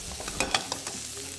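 Ingredients for Schezwan soup being stir-fried lightly in a pan, giving a soft sizzle with a few brief scraping strokes from the spatula. The sound is close but fairly quiet, with no speech.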